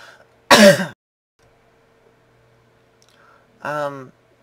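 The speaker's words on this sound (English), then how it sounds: "I still have a cough" Two short throaty coughs, the first loud and close, then a gap of quiet and a second, softer cough-like burst.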